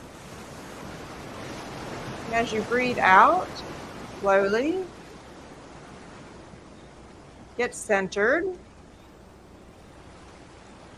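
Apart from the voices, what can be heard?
recorded ocean waves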